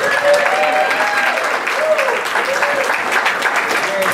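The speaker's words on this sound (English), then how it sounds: "How about one more big round of applause for our boys and girls?" Wedding guests clapping and cheering loudly and steadily for the wedding party, with whoops and shouted voices mixed into the dense applause throughout.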